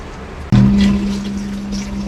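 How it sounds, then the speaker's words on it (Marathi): Water being filled at a home in Mumbai starts abruptly as a steady, fairly loud gushing stream with a constant tonal hum, continuing unbroken to the end. "पाणी भरतं"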